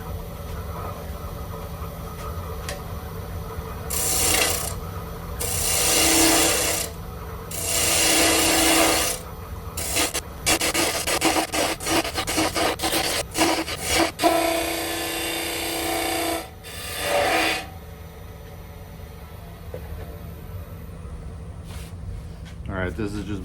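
Wood gouge cutting into end grain of a spinning top on a lathe running around 2,000 rpm, with rough scraping bursts of varying length repeated over the steady hum of the lathe, close and moderately loud.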